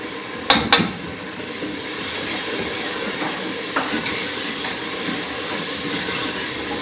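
Spice masala frying in a pan for chana masala, a steady broadband hiss and sizzle that holds throughout, with a couple of sharp clinks near the start and a faint knock later.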